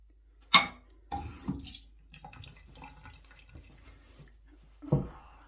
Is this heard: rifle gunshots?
no